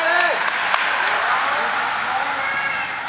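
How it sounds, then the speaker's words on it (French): Crowd applause for the leading rider at a semi-nocturne cycling race, a steady broadband wash of clapping lasting throughout, loud and continuous, with a few vocal tones and cries mixed in. "on applaudit une avant-dernière fois l'homme de tête"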